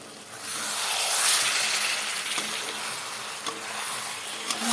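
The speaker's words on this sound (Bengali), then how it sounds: "দেখো এখানে মাছগুলো সব ঢেলে দিলাম" Rohu fish pieces tipped into a pan of hot spices set off a loud, close sizzle and hiss that swells at first, then settles into steady frying with a few scraping stirs.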